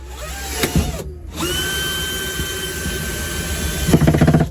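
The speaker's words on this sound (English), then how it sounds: "So I'm gonna go ahead and drill the second hole." A power drill whirs loudly and steadily, pausing briefly, then spinning up again and biting into material with a rising grind while drilling a hole to fit a Kubota tractor seat.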